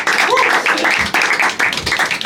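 Audience applause and clapping for a comedian at a live stand-up comedy special, a loud, steady wash of claps filling the room with slight swells and dips throughout.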